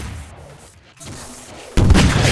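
A rocket explodes in a Half-Life 2: Deathmatch match, a sudden loud broadband blast near the end that follows a stretch of quieter, muffled in-game ambience.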